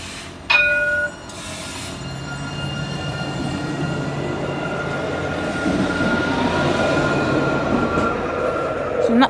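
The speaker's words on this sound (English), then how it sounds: "The tram that is in 1 minute is now arriving at platform" A Nottingham tram arriving at a platform near Bulwell Forest level crossing, a steady rolling rumble with faint wheel squeal that builds gradually, following a brief sharp chime or horn at the start.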